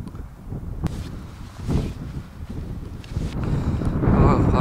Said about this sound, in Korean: 바람 많이 온다.